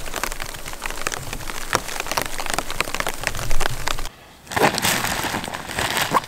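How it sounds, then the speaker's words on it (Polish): Rain patters on a tent in Norway, a dense close-up drumming of drops with sharper individual hits, briefly dropping out before resuming loudly. "Deszcz i komary, klasyczna Norwegia."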